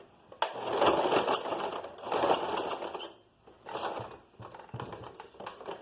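A sewing machine stitches a shoulder seam in bursts of rapid mechanical chatter, close and clear, with short pauses and lighter clicks between runs.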